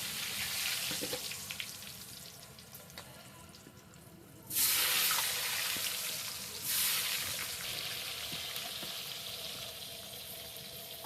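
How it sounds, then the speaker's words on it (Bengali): Potatoes fry in oil that was just used for fish, a steady hiss rising into louder surges of bubbling sizzle midway, moderately quiet and with no voices. "এবার এই তেলে আমি আলুগুলো ভেজে নেব"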